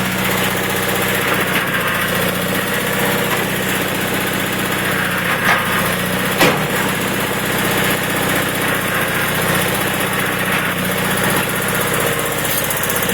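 A 1983 John Deere 318 garden tractor engine idles at low speed, a steady, even mechanical hum held close up for the whole stretch, broken by a couple of faint clicks.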